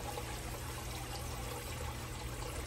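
A little water is poured from an emptied tomato sauce can into a pot of chili, a steady close trickle and splash running throughout with no voices.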